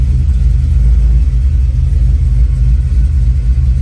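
A 1969 Chevy C10 resto-mod with a drive-by-wire LS3 V8 rumbles loudly and steadily at close range, with a deep, even idle and no talking.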